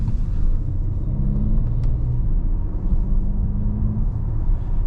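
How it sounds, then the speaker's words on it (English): The 3-liter turbocharged V6 of a 2024 Audi A7 Prestige cruises on the road, a steady low, smooth rumble heard from inside the cabin with subtle engine tones and no talking. "This V6 is smooth and quiet, I can tell you that right away."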